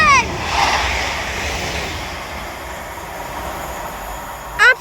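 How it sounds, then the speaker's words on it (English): A Class 350 London Northwestern Railway electric train rushes through Acton Bridge on the West Coast Main Line at high speed, a loud sustained roar of wheels and air rising and fading, with faint squeals at the edges. "Absolutely rockets through Acton Bridge with the 1514 London North Western Railway service to Liverpool Lime Street from Birmingham New Street"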